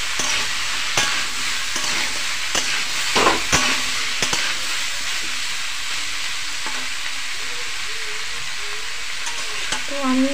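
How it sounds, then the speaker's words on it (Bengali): Potatoes, carrots, cauliflower, capsicum and tomatoes with spices frying in a pan while being stirred, giving a steady close sizzle broken by several sharp scraping strokes. "ভালো করে একটু নেড়ে নিই।"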